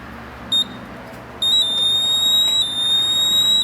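A GMI Visa portable gas detector beeps during calibration: a short high-pitched tone, then a sustained shrill alarm tone that holds steady, loud and near, over faint background hum.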